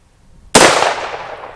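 An AR-15 rifle fitted with a bolt blocker compliance device fires one round, a sudden sharp loud crack after a quiet moment, followed by a decaying echo.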